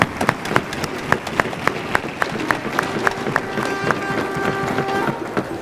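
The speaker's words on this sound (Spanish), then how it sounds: "Un aplauso." Audience applause at the Emerita Lúdica 2017 festival in Mérida, a steady crowd clapping with sharp regular claps standing out, carrying on throughout with a tonal note from another source running beneath in the second half.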